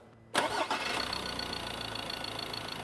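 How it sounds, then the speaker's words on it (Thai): A car engine, under test while its intake manifold absolute pressure sensor is checked, cranks briefly and then catches, settling into a steady, loud idle close by with no voices. "เดี๋ยวลองสตาร์ทเครื่องยนต์ดูนะครับ"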